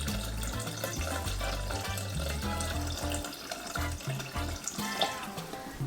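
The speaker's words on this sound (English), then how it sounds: "600 grams of water. So we'll just measure that in now" About 600 grams of water is poured into a pot to be measured, a steady trickling stream over a low background hum.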